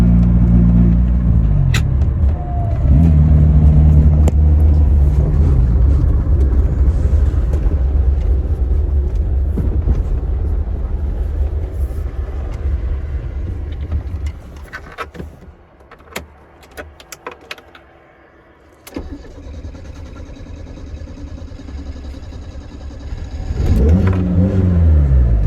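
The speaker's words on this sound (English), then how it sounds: "Well guys, we're driving the Yugo." A Yugo GV strains to accelerate on the road, its engine droning steadily with a loud strained rev near the start, then easing off and dropping almost silent before swelling again into another rev at the end.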